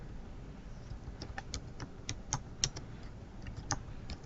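Keystrokes on a computer keyboard typing out a short message subject, a quick irregular run of close, crisp clicks over a faint background hum, with no talking.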